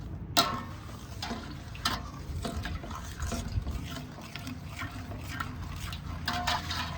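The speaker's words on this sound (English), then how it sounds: "And I'm gonna make sure that I mix this up really well so that it's nice and dissolved." Sugar and spices being stirred into a syrup, a steady run of light scraping and liquid swirling with small clicks of a utensil against the pot, fairly close and continuous with no talking.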